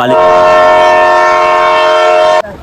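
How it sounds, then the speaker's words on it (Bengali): A loud, sustained train horn blares steadily for over two seconds as a train arrives at a station, then cuts off abruptly. "তো এক্ষুনি ট্রেন আসছে"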